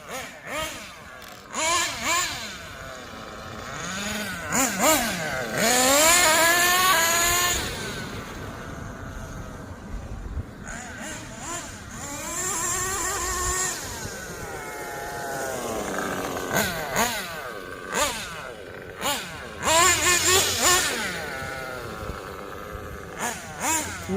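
A Kyosho USA-1 Nitro V2 RC monster truck with a three-speed gearbox screams at full throttle, its small nitro engine revving up and down in long rising whines, loud and close, with brief pauses where a voice can be heard.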